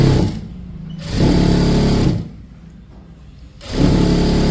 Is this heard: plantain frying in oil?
no